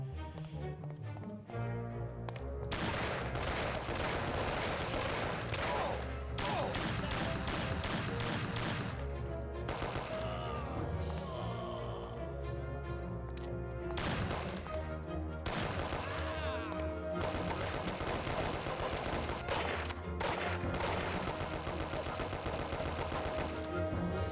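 Repeated gunfire in the PS2 game Monster Hunter, dense rapid shots and impacts layered over continuous game music and effects, loud throughout with brief pauses between bursts.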